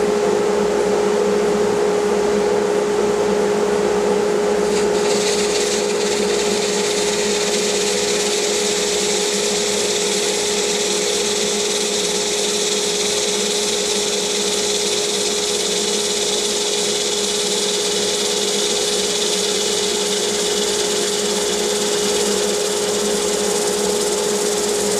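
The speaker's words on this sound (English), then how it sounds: "Let me get started sanding." A power sander works a sunken cypress wood platter, a steady loud whine with a constant pitched hum that runs unbroken from start to finish, with no voices.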